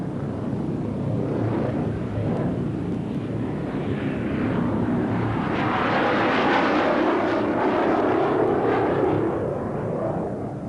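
An F-18 Hornet fighter jet in flight makes a continuous roar and rush that swells in the middle and fades a little toward the end. No voices are heard over the engine.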